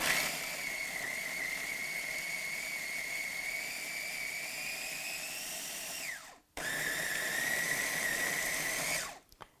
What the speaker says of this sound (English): let's see how this blends